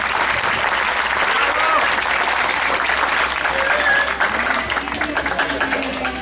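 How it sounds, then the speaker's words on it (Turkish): Loud, sustained applause from a large audience at a talk on autism, dense clapping that continues steadily with crowd noise throughout. "İki arkadaşlarım da çok kuvvetli bir alkış alabilir miyiz?"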